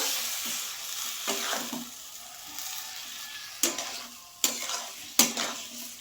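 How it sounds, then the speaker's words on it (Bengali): Fish with winter vegetables frying in a pan after a splash of water, a soft steady sizzle broken by several sharp spatula scrapes and clinks against the pan, close and alone. "এবার এটা ভালো করে কষিয়ে নেব"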